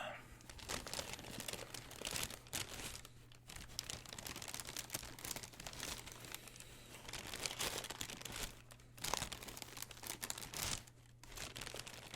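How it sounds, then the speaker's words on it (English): Packaging paper crinkled and crumpled by hand while a shoe is unboxed, dense close-up rustling and crackling that continues throughout, soft overall with a low steady hum beneath. "And let's get a little more crinkle on."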